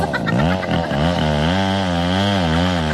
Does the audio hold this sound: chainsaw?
yes